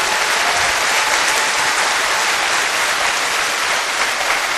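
A large audience breaks into loud, dense applause, many hands clapping in a continuous roar that holds steady from start to finish with no voices over it.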